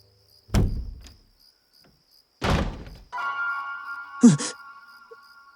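A door creaks open in a horror story sound effect: a couple of heavy thuds, then a long sustained creak with a sharp knock in the middle, each standing apart with silence between.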